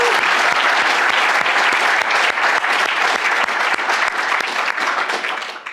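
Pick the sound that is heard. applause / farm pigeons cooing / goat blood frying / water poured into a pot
applause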